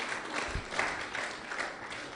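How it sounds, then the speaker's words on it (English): Short burst of audience applause at an international dairy production conference as a speaker is welcomed to the podium, a soft, blurred wash of clapping from a moderately distant crowd. "Another round of applause for him."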